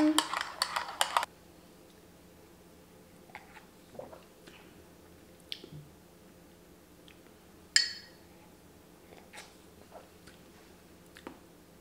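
A spoon clinks and scrapes inside a cup while stirring Nespresso coffee with a dash of unfrothed milk, a quick burst of rapid clinks at first, then sparse, isolated taps and chinks in a quiet room.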